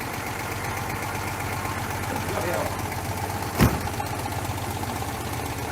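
A Citroen 2CV's small engine idles and runs steadily on a dyno to bring the oil up to temperature, a continuous low drone with a brief sharp knock partway through.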